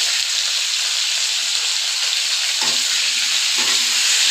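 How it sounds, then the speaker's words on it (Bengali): Potato and cauliflower pieces fry in hot oil with turmeric and salt, giving a steady, loud sizzle throughout, with a couple of soft scraping stirs partway through. "এবার আলু ফুলকপিটা ভালোভাবে ভেজে নেব।"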